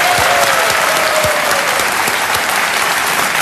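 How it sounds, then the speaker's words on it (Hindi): A studio audience at the KBC grand finale applauds Kapil Sharma, a loud, dense and steady wash of clapping throughout. "एक बार तालियां बज जाए कपिल शर्मा जी के लिए"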